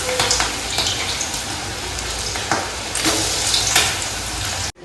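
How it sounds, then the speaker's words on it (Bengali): Chicken pakoras frying one by one in hot oil, a steady dense sizzle with bubbling crackle and occasional sharper pops as pieces go in, close and continuous. "চিকেন পকোড়াগুলো একটা একটা করে ভেজে নেব গরম তেলে।"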